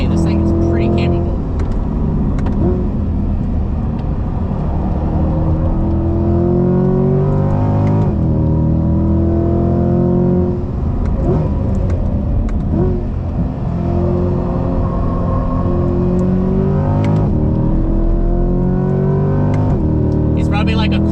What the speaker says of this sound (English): He's probably like a quarter on the throttle right now and he's still pulling away.